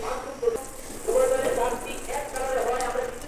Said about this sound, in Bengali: বারবার নাড়াচাড়া করে মশলাটা খুব সুন্দর করে কষাবো।